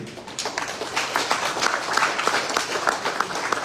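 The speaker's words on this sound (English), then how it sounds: "round of applause to all of you" An audience claps in a steady, dense round of applause that holds at even strength throughout, with faint voices mixed in.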